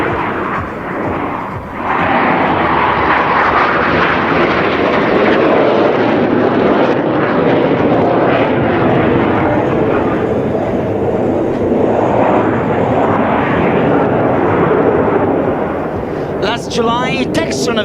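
A military jet trainer flies aerobatic rolls at an air show, its loud engine roar sustained and surging while a commentator talks over the noise throughout.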